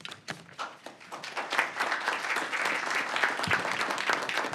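Applause at a veterans day ceremony starts with a few scattered claps, then swells into full, sustained clapping from a sizable audience.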